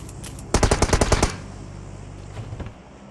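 Gunfire in the mobile game PUBG Mobile: a loud rapid burst of about eight automatic shots, then a few fainter distant shots, with no talk.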